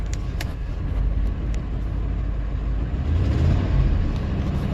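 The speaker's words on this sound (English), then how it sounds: "Okay, sputtering a bit now. Sputter, sputter, sputter." A Ford F-150 with low oil pressure, its engine running roughly and sputtering, a steady low rumble that swells unevenly toward the end.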